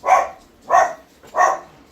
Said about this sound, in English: my dog loves to bark when I make videos